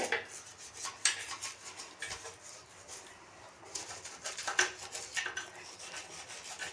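A toothbrush scrubs a kitchen stove near a screw fitting, giving steady close scratchy rubbing in repeated strokes with a few louder bursts and no talking.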